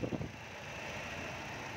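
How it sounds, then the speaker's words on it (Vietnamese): A 2008 Toyota Innova J engine idles steadily at a car dealer, a low continuous rumble with a brief knocking burst at the start, then an even hum throughout. "Cục máy đó, cục máy nổ bao em luôn."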